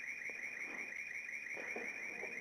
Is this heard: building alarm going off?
yes